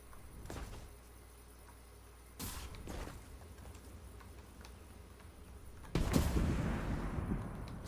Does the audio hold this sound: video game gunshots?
yes